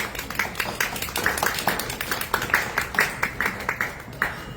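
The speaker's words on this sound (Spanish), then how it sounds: "Un aplauso, por favor." Audience applause at a science communication event: a moderate scatter of hand claps from a modest crowd, irregular and fairly close, sustained at an even level throughout.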